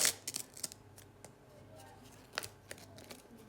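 A paper surprise packet is opened along its edges, giving a few sharp crinkling, tearing rustles with short bursts of paper handling, fairly close and faint, with no voices.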